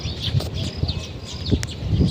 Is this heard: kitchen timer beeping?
no